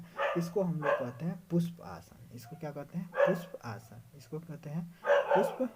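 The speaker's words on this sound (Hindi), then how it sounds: "देखिए अब थोड़ा रात में वीडियो शूट कर रहे हैं तो कुत्ते भौंक रहे हैं" Dogs bark at night outdoors, the barks sitting faintly in the background beneath a man's continuous lecture-style talk.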